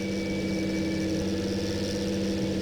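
A tractor engine idles in the video game Farming Simulator 2013, giving a steady, loud, droning hum that runs without a break. No one speaks over it.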